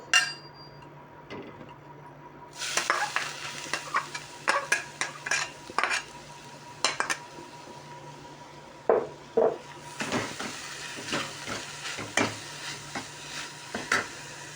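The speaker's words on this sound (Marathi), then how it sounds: "आता याचा चांगला गोळा होतोवर आपल्याला हलवत राहायचं आहे" Grated fresh coconut being stirred with sugar, milk and milk powder in hot ghee in a kadhai, a spoon scraping and clinking against the pan in irregular close strokes over a soft steady sizzle.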